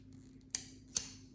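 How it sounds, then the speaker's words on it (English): Scissors snip through macrame cords on a small plant hanger: two sharp, close, isolated cuts about half a second apart over a quiet room background. "Then I can cut the rest of the cords"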